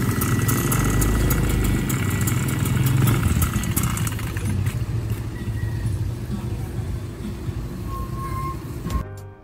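A 71cc stand-up scooter engine fitted with a new stainless exhaust pipe runs loudly nearby, a steady buzzing idle with rattling clatter that drops slightly and then cuts off abruptly at the end.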